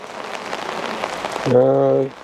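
Steady rain patters on a street in Korea as a continuous hiss, until a tonal voice-like sound rises over it near the end and the rain noise drops away.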